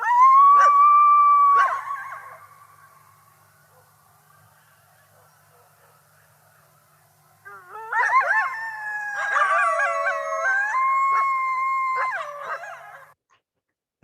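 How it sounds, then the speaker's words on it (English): Coyotes calling near Sun City: a long, wavering howl rises first, then after a quiet pause several overlapping yips and howls break out together, clear and carrying across open air. "you can hear these coyotes calling here in Sun City if it's clear"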